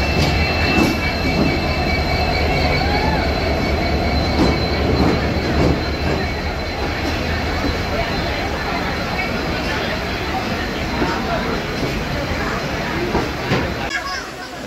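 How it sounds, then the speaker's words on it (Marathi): A Konkan Railway special train pulls into a station platform with loud continuous rumbling, rattling wheels and squealing, close and sustained, while people talk nearby. "आता S9ला आलो आहे आणि आता आपली ट्रेन पण आली."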